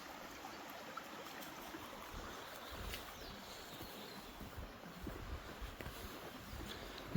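A stream on Dartmoor flows in a steady, close rush of water that fills the whole stretch at an even level, with no one talking.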